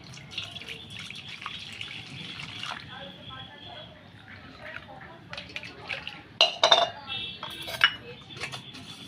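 Flour being mixed with lukewarm water in a bowl, with soft clinks and scrapes of a utensil against the bowl that grow sharper and louder toward the end, under low background noise.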